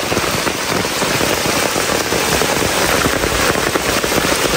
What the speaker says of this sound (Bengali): ব্যাপক বৃষ্টি হচ্ছে।